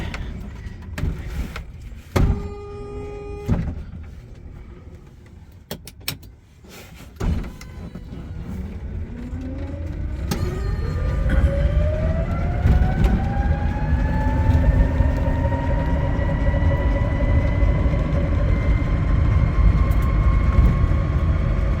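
A 1975 Sebring Vanguard Citicar electric car, first a few clicks and clunks as it is readied and reversed, then a rising electric motor whine that climbs in pitch and holds steady as it drives off, without talk.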